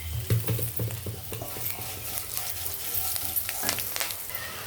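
Soaked flattened rice being stirred in a pan over a turmeric tempering, a steady sizzle with scraping and shuffling of the spoon through the mix, close and continuous with no talking.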